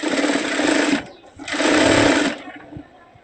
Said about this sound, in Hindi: अब हम इसको चारों ओर सिल देते हैं।